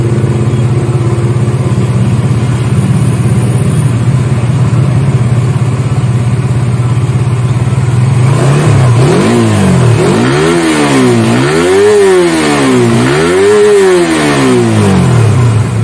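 A Suzuki GSX-R150 motorcycle with a modified exhaust idles loudly up close, then revs hard in a series of rising and falling bursts toward high rpm.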